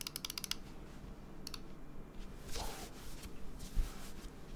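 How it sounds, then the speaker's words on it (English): Computer mouse clicks at keyboard level during a custom keyboard build, a few light quick clicks in short bursts, faint and close, over a soft background hiss. "This is how loud mouse clicks are at keyboard level."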